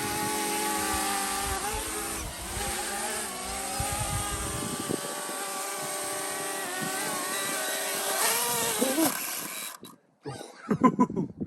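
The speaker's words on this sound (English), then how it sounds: "Land, little drone." Small drone flying low with a steady high-pitched motor whine and buzzing harmonics, getting louder as it comes in to land by Loch Lomond, then cutting out with brief clatter at the end.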